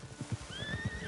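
A horse in Red Dead Redemption gives a short whinny over soft rhythmic hoof thuds, fairly faint and brief, with no talking.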